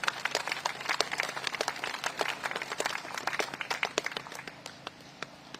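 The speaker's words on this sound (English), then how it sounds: "I think they deserve a huge round of applause." Scattered clapping from a ceremony audience at the Commonwealth Memorial Gates for a children's choir, fairly faint and distant, sharp individual claps in a loose stream that thins out toward the end.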